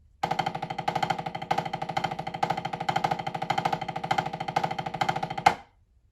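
A snare drum plays a fast flam exercise in 17/16 time, mixing paradiddle rolls and accented strokes in an even, driving rhythm for about five seconds before a final accent and silence.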